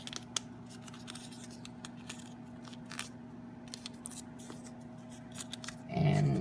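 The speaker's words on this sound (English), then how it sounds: "If you get to a piece that's too big, cut it off" Scissors snipping excess crust dough from the edge of an apple pie: a few soft, close clicks and cuts over quiet room tone, ending in a brief burst of louder handling noise.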